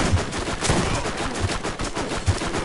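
Shotgun blasts and other weapon fire in Borderlands pound out as a run of loud, close shots spaced through the moment, over a busy, noisy game backdrop.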